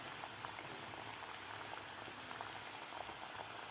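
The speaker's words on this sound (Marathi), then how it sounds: "आता ह्या सुद्धा आपल्याला थोडासा गोल्डन कलर होईपर्यंत आपल्याला तळून घ्यायचे आहेत." Wheat flour and jaggery kapnya, small sweet dough pieces, fry in hot oil until golden, giving a steady, dense, crackling sizzle that stays even and fairly close throughout.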